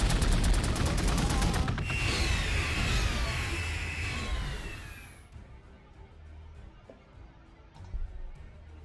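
Space Marines open fire in the Warhammer 40,000: Gladius - Relics of War strategy game: a dense, loud fusillade of rapid shots and booms for several seconds, then a fading tail and a few scattered distant hits.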